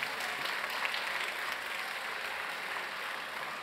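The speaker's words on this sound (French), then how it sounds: "Un peu d'applaudissements" Audience applause at a convention talk with John Rhys-Davies at Mangame Fréjus 2017: a dense, even wash of clapping from a large crowd, sustained throughout without fading.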